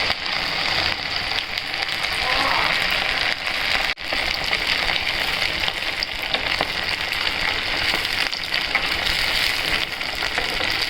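Sabudana vada, tapioca pearl fritters for a fasting meal, deep-frying in hot oil over a low flame: a steady, dense crackling sizzle that runs close and even throughout, with no voices.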